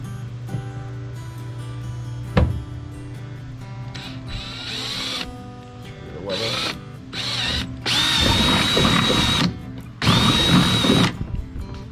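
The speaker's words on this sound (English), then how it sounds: "figure out what size drill bit I need to use to drill this" A power drill whirs in several bursts while drilling a DIY bait bucket, short spins at first, then two longer, louder runs with a high motor whine, separated by brief pauses.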